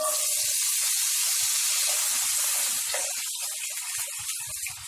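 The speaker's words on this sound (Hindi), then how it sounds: "तेल गरम हो चुका है, अब हम इसमें आलू डाल देते हैं।" Diced potatoes drop into hot oil and fry with a loud, steady sizzling hiss that slowly eases but keeps going throughout.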